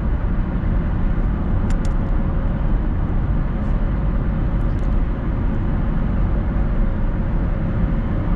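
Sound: 2008 Toyota Prius driving on road, heard from inside

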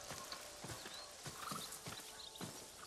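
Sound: horse in the video game Ghost of Tsushima

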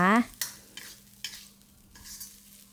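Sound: stir-frying canned fish chili paste with Karen chilies

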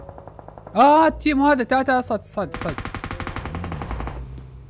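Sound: gunfire in video game PUBG Mobile

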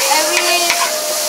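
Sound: kuey teow stir-frying in a wok with garlic

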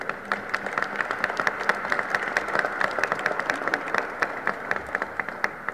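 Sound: audience applause for a guest

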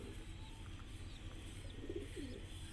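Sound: silver kasni high flyer pigeon cooing

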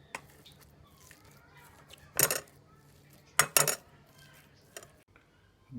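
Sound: mashing boiled potatoes with a fork

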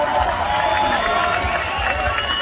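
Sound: crowd applause at a greasy pole contest

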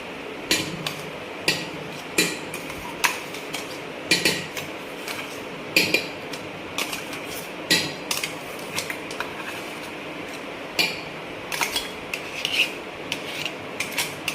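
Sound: spoon scraping ground food out of a pot

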